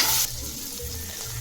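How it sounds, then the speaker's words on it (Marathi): Green tomatoes frying in a pan with a little salt, a steady close sizzle throughout with a slightly louder hiss at the very start. "2 ते 3 मिनटासाठी आपण आता हा टोमॅटो परतून घेऊ"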